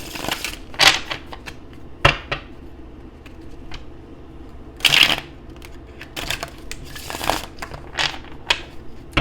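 Tarot cards riffle and flick in several quick bursts, close and crisp, with short pauses of quiet room tone between shuffles.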